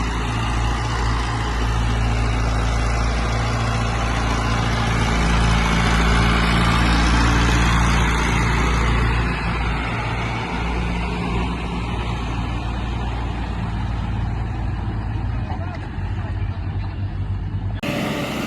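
A tractor engine runs steadily outdoors on a farm, a loud, constant low rumble and drone that holds throughout with only slight shifts, then drops briefly at the end.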